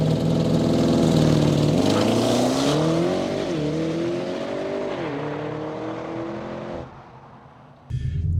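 A 2020 Audi RS6 Avant launches from 0 to 60 in 3.4 seconds, its engine roaring up through rising revs with shift dips before fading as the car pulls away.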